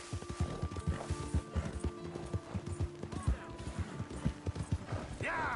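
Horse hooves clip-clop at a fast, steady pace in Red Dead Redemption 2, with a brief whinny and a voice talking over the galloping.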